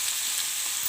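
Spices for an egg gravy fry in hot oil in a pan, a dense, steady crackling sizzle, loud and close, with no voices.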